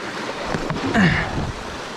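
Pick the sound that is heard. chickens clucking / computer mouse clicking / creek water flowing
creek water flowing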